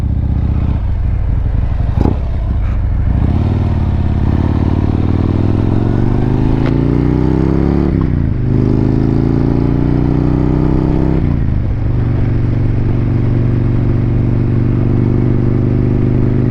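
A Harley-Davidson motorcycle cruises along the Pacific Coast Highway in California, its loud engine droning steadily up close, pitch rising and falling through several gear changes amid wind rush.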